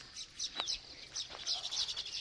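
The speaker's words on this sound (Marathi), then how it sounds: "पक्ष्यांचा किलबिलाट आहे." Baya weaver birds chirp and twitter in quick, high bursts nearby in a babul tree, a busy scattering of short calls with no voices.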